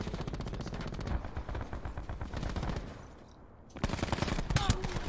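Rapid automatic gunfire from Call of Duty: Black Ops 4 rattles in dense bursts, pausing briefly and then resuming, with a voice talking underneath.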